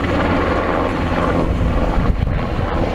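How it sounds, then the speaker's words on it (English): A large military helicopter passes overhead near a shopping mall, its thudding rotor and turbine drone loud and steady for the full few seconds. "Oh, look, Tubby, there's a big helicopter up there."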